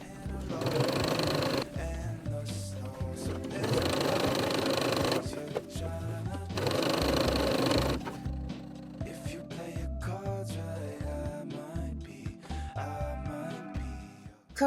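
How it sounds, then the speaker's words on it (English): A home sewing machine runs a straight stitch around an elastic waistband hem on pajama pants, humming in three steady bursts of about two seconds each with short pauses between, followed by quieter intermittent stitching and handling. "Fold the edge 2 times to cover up the elastic, then sew all the way around with a straight stitch with the regular pressure foot."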